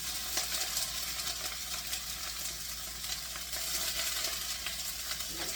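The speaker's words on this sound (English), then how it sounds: "Saute them a bit as I talk." Vegetables sautéing in a hot pan as the base for a sausage tomato sauce, giving a steady close sizzle and crackle with occasional stirring scrapes, uninterrupted by talk.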